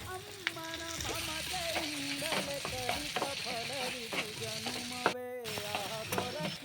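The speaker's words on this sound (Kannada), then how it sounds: "ಹಾಗೆ ಇದು ಫ್ರೈ ಆಗ್ತಾ ಇದೆ." Tomatoes fry in a pan for bisibele bath, a steady sizzle with scraping stirs throughout and a sharp clatter near the end, with no talk.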